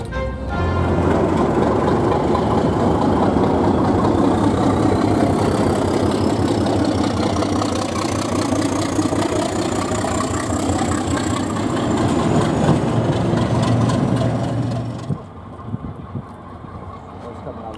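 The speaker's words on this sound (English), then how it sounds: "we see Class 37, 37905 heading off into Dereham sidings" Class 37 diesel locomotive 37905 rumbles into the sidings at Dereham with a loud, close, steady heavy-engine throb that drops away near the end, while a person talks over it.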